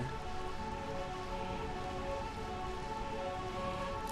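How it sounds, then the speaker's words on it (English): Steady rain in the video game Final Fantasy IX, in the realm of Burmecia, patters continuously, a dense, even hiss of drops on a surface, fairly quiet and unbroken throughout. "Burmecia, the realm of eternal rain."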